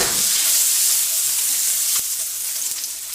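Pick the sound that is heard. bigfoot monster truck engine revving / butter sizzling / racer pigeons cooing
butter sizzling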